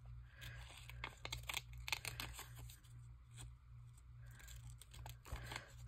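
Scissors cut out a paper picture, making quiet, close-up snips and crinkling paper sounds in short irregular bursts separated by brief pauses.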